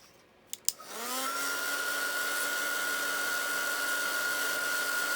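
A craft heat tool for embossing a postcard switches on after a couple of clicks and spins up into a steady, close blowing whir with a faint whine that holds to the end.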